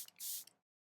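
Makeup setting spray misted in one short burst after a couple of quick clicks of the nozzle, close and fairly soft, followed by silence.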